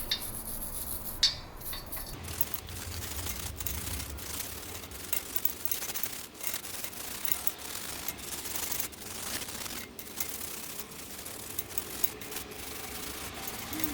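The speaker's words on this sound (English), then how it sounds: "I'm just going to gently clean it off with this wire brush" Steady scratchy scrubbing of a wire brush against a brake rotor and hub surface, continuous close rasping with brief pauses and strokes, no talking.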